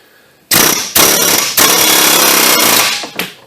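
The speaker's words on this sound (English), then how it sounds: "So I'm going to get in here with a chisel and just spread it open just a little bit." A chisel is driven into a stuck ball joint on a 2007-2012 Nissan Versa, producing loud, harsh, rattling metallic hammering in several close, sustained bursts separated by short gaps.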